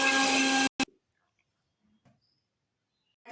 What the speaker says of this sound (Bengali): এবারে আমি মিক্সিতে বেটে নেব